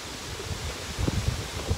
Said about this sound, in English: That is a lot of wind! That is a lot of wind. It's freezing out here.